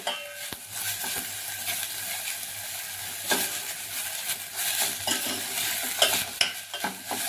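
Pumpkin and carrot cooking in ghee in a pan over a low flame, stirred steadily: a soft, continuous sizzle with repeated scraping and light clinks of the utensil against the pan, up close, and no talking.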